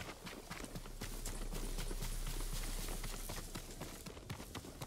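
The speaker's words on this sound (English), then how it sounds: "then I'll call the horsey" Horse hooves clip-clop steadily in a video game, a continuous run of quick, close hoofbeats over a constant low rumble of game ambience, with no talking.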